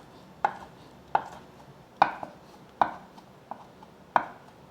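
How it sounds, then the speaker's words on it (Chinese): Knife chopping shiitake mushrooms on a cutting board: six crisp, evenly spaced chops about once every two-thirds of a second, close and distinct against a quiet background. "把香菇切碎"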